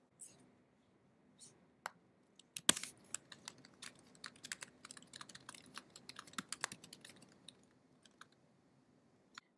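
Typing on a computer keyboard in a quiet room, soft, irregular clusters of key clicks with a few louder taps, close and faint, continuing for most of the clip.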